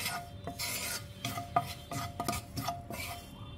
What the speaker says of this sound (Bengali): কিছুটা জিরা আমি কাঠখোলায় ভেজে নিচ্ছি।